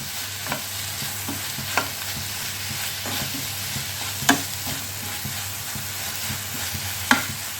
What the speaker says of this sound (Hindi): फ्लेम को बिल्कुल हाई रखनी है और इसे चलाता जाना है इस तरह से चलाती जाऊंगी